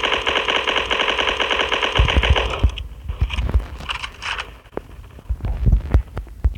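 Rapid automatic gunfire in the shooter video game Block Strike rattles loudly for about two seconds, then gives way to scattered thuds and softer single shots.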